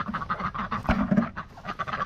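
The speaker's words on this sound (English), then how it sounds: "The duck's doing good." A duck quacks a few times at close range during a morning walk around a backyard flock, with rustling and outdoor background noise throughout.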